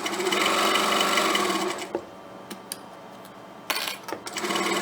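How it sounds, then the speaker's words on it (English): Sewing machine stitching a seam on a fabric water bottle holder, a loud close rapid whir for about two seconds, then a pause with a few clicks and a brief restart of the running motor near the end. "Now we are going to sew this seam at the edge of the presser foot."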